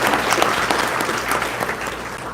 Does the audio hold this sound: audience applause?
yes